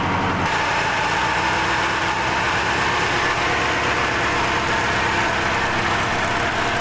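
A cold air-cooled V4 engine idles at high revs with the choke slightly closed, a constant low rumbling drone with a fast, uneven mechanical beat, close and loud.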